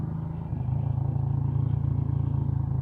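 A motorcycle rides along a narrow road on the Khagrachari–Sajek route, its engine giving a close, steady low throbbing rumble that lifts slightly after a brief dip and holds an even pulse throughout.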